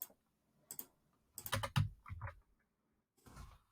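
Computer keyboard typing in a few quick, clicky bursts separated by short pauses, close by and moderately loud with no talking.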